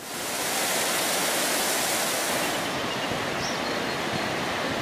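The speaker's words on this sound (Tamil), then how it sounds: "அணையின் 50 மதகுகளையும் கடந்து சீறி பாய்கிறது காவிரி" The Kaveri River pours through the fifty gates of the Mayanur barrage, a loud, unbroken roar of rushing water that holds steady throughout.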